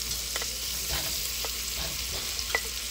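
Onion frying in a pan for Korean sweet chili spaghetti, a quiet steady sizzle with a few brief scraping stirs of a utensil, close up and with no voices.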